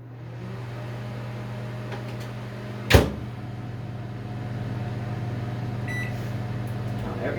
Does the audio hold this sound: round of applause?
no